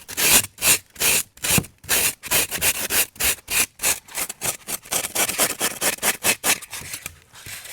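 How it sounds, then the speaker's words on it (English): Styrofoam is sanded with quick, rhythmic back-and-forth strokes that give a dry, scratchy rasp. The repeated pulses are close and fairly loud, and they speed up toward the end with no talking. "Sorry for those who don't like the sound of styrofoam being sanded."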